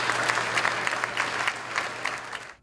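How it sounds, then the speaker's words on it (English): Loud applause from a legislative chamber crowd after the Mississippi House votes 91-23 to change the state flag, a steady dense clapping that holds for a couple of seconds before cutting off abruptly. "A 91-23 vote followed by loud applause."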